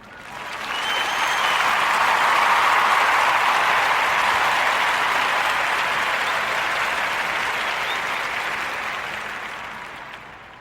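Warm round of applause from a podcast audience, a dense, even wash of clapping that swells in quickly, holds steady for several seconds and tapers off gradually.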